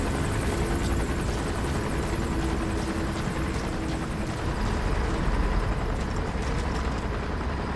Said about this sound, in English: Where the heck is that dang chopper?